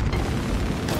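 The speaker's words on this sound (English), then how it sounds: "Reloading weapon" Weapon reload in Warhammer 40,000: Space Marine 2, a dense mechanical clatter and ratcheting over a continuous low rumble of game ambience, steady and fairly loud through the short stretch.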